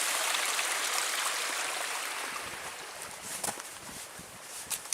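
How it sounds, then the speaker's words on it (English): A small stream running water as it flows into the Manistee River along a Michigan woodland backpacking trail at dusk, a steady broadband rush close by with a few brief sharper splashes or steps toward the end. "Here we come up some running water."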